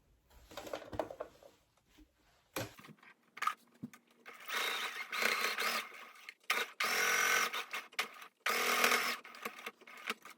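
A sewing machine top-stitches a 3D butterfly-style fabric face mask in several short bursts of fast, whirring mechanical stitching. Quiet gaps fall between the runs, which are close and fairly loud.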